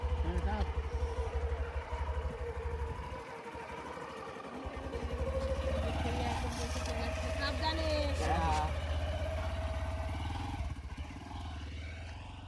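A motorbike engine runs at a steady low drone nearby, rising slightly in the middle before easing off, while people talk over it.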